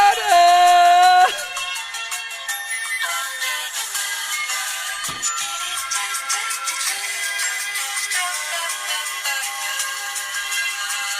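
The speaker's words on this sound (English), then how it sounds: "I got to listen to a ringtone that's been stuck in my head since fucking... When did this phone come out? LG NV2?" An LG enV2 mobile phone plays its ringtone, a steady electronic melody that runs loud and unbroken for about eleven seconds with no talking over it.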